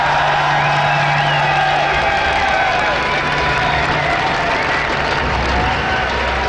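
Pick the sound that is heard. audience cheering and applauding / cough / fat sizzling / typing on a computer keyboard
audience cheering and applauding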